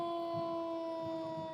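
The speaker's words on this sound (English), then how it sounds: "Here's a unit from Station 151, letting us know they're here with their sirens." A fire engine's steady, high wailing siren at a Christmas parade in Glendora, held at a constant pitch, fairly loud, with faint low rumbling underneath.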